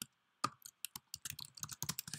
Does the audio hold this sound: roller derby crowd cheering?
no